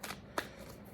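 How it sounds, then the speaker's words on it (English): A tarot card deck being shuffled by hand, giving two quick riffling bursts of card flutter close by, the second sharper and louder, with no talk. "Let's shuffle this deck nicely"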